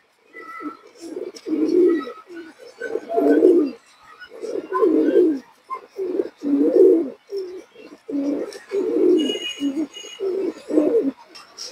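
Pigeons coo in a steady run of low, throaty calls, close and continuous, with faint chirps and high calls in the background; the birds are fancy breeds kept in a loft for sale.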